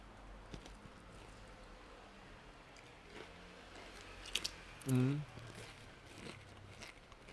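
Doritos chips being chewed up close, with one crisp crunch standing out over quiet room noise.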